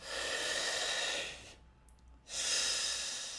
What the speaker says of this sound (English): Now let's do the last 10 breaths.